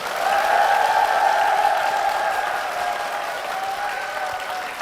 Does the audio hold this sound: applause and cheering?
yes